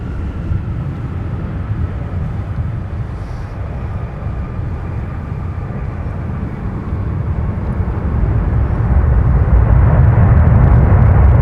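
An Envoy airliner rolls for takeoff on runway 17 at MSP airport, a loud broadband jet roar that builds steadily and swells toward the end, with no talk over it.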